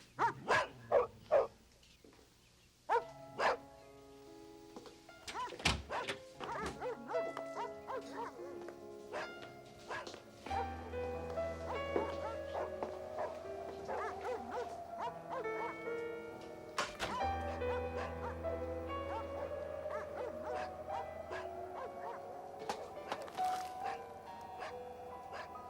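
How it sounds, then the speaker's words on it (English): Several dogs barking indoors from inside a room, a burst of sharp barks at the start and again mid-way, then whimpering, howling tones drawn out over a low hum. "don't worry about those dogs. Every time anyone goes in that room, they bark like that."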